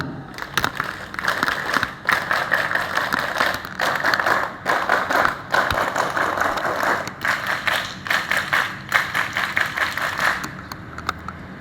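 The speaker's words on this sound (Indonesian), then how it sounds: "3 kali tepuk pramuka." An assembly at a Scout Day ceremony performs the rhythmic scout clap three times, with crisp patterned bursts of group clapping separated by short pauses, loud and close.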